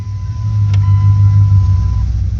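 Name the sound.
car engine starting and idling during 46RE transmission pressure test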